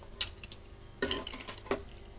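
Cooked rice with radish and carrot is stirred in a pan, with a few short metal scrapes and clinks against a faint sizzle.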